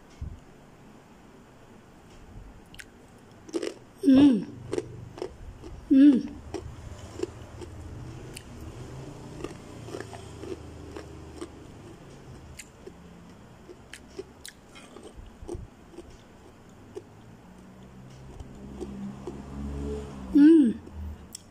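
Crisp dried-shrimp kuping gajah crackers, spicy and salty, crunch in a few sharp bites near the mic around 4, 6 and 20 seconds, with softer chewing and kitchen noise between them.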